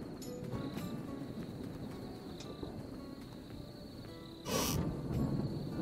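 Distant thunder rumbles softly under an evening ambience in Tavern Manager Simulator, with a dry storm and no rain, and one brief louder crack near the end. Faint bird-like calls also drift through.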